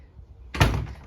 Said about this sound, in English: Just close the door behind me.